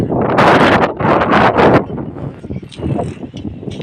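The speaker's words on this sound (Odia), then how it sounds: "ବହୁତ ପବନ ହେଉଛି।" Strong wind gusting across a rooftop after rain, looking out over paddy fields: heavy buffeting roars against the microphone in two loud surges, then easing into softer rustling, with someone talking briefly.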